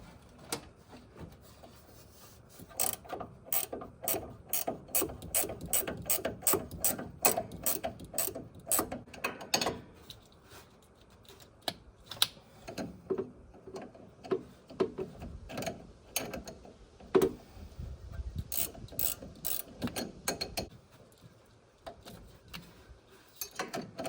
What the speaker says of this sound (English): I'm also going to have to grab an Allen key, 6mm Allen 3/4 inch ratcheting wrench.